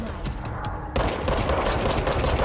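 Sustained automatic gunfire in the shooter game Control, a dense rapid burst that grows louder and fuller partway through and runs without a break to the end, with no talk over it.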